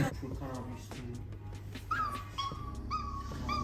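A human voice imitates a dog's whimpering, producing high, wavering whines and yelps in short repeated bursts, fairly close and moderately loud.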